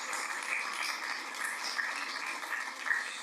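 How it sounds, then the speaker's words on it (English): Audience applause following a lecture at the British Museum on ancient Rome, a steady, dense wash of many hands clapping at moderate level without interruption. "A big applause."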